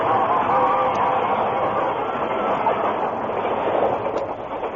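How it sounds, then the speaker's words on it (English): A steam locomotive races past in a dense, roaring rush of wheels and steam that stays loud for several seconds and eases slightly toward the end, heard alone without voices. "The train raced by"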